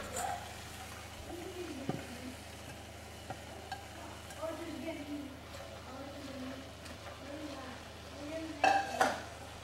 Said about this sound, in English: I can add the mung bean now,